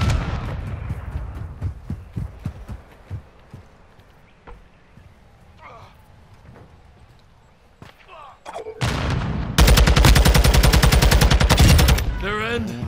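Enemy gunfire in a Call of Duty: Modern Warfare II multiplayer match. Scattered sharp shots and short bursts build into a dense, loud volley of rapid automatic fire near the end, with voices calling out in between.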